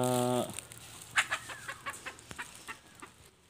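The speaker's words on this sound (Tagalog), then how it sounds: "napasigaw-sigaw yung inahin" A hen lets out a loud, drawn-out squawk, then keeps up a string of sharp, rhythmic clucks, close by.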